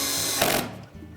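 A power tool whirs briefly while driving a screw into the outer door panel of a Whirlpool washer, a short steady mechanical buzz that cuts off abruptly.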